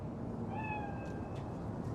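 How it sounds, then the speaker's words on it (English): A single cat meows once in the video game Cyberpunk 2077, a short rising-falling cry over a steady, noisy ambient city background. "Chill, just a cat."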